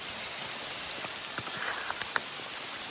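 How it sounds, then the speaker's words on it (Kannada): Heavy rain falls steadily on a mountain trek to Gangadikal Peak in Karnataka, a constant hissing wash with a few distinct nearby drops pattering on surfaces. "ಮಳೆ ಜೋರಾಗೆ ಬರ್ತಿದೆ."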